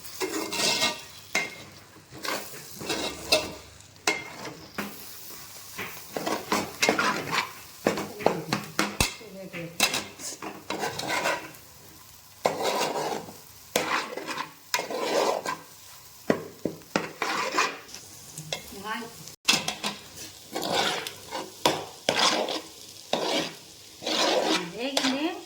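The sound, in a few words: stirring eggs in a pan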